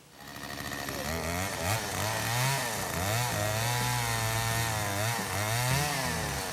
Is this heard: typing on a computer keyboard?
no